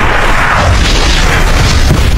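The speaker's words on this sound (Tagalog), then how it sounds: "Ang nagliliwanag na bilog ay sumabog na nga ng napakalakas." A glowing ball of energy blows up in an anime fight scene, a loud booming blast that rumbles and roars with sustained crackling noise for a couple of seconds, with no voices.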